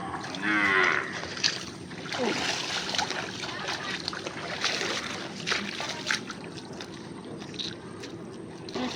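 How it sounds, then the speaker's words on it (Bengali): A cow lets out one loud, drawn-out moo near the start, followed by splashing water and faint voices in the background. "আমার গরু অলরেডি আসছে"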